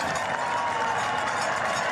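Roadside spectators at a women's world championship cycling road race cheer and clap in a steady, dense roar that holds loud and unbroken throughout.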